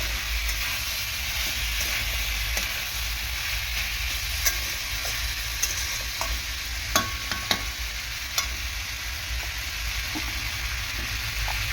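Potatoes being sautéed with chili powder over a high gas flame for an Indian-style curry, a steady close sizzle and frying hiss with occasional light clicks of stirring, no voices.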